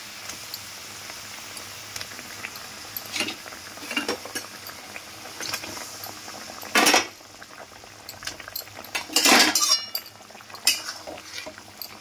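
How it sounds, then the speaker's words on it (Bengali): Fried hilsa fish pieces dropped one by one into curry broth bubbling in a pot, with soft simmering and several sharp clinks of utensil against metal at irregular intervals. "তো দেখো এখানে আমার ঝোলটা ফুটছে, এবার ভেজে রাখা মাছগুলো আমি একটা একটা করে এর মধ্যে দিয়ে দেবো।"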